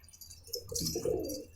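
A young pigeon gives a short, soft, low coo close by, a brief throaty burble against faint background hiss.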